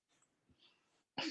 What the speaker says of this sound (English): Oh no, I just had a sneeze.